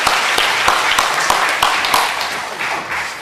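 A church congregation claps in steady, dense applause, close and fairly loud, with a few sharper individual claps standing out throughout.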